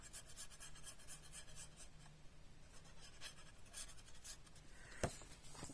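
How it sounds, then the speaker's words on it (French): Glue is applied along the edge of a sheet of paper while a small craft mini album is assembled, making soft, close scratchy rubbing strokes with quiet gaps and a sharper tap near the end. "Un peu de colle bien au bord."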